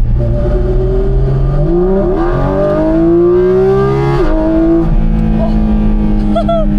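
A Porsche GT4 RS driven on a race track, its engine loud and close as it revs up through rising pitches and drops with gear changes, continuous from start to finish.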